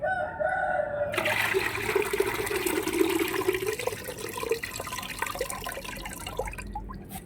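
Running water splashes and gurgles steadily as fish is washed under it, with a rooster crowing in the background.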